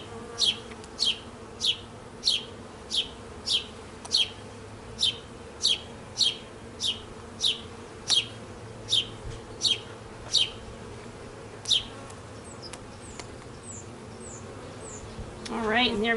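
Honey bees being installed from a package into a hive hum as a steady low drone, with a regular series of sharp chirps repeating through most of the stretch.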